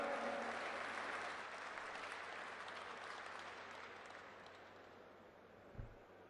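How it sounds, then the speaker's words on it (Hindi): Loud audience applause from a large crowd at a national conference of elected representatives, a dense steady roar of clapping that slowly fades over several seconds, with one brief thump near the end. "उनके लिए जोरदार तालियां"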